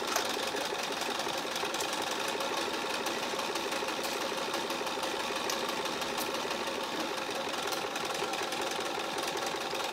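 Sewing machine stitching a seam close along fabric piping, a steady, continuous mechanical whir at moderate level running alone throughout.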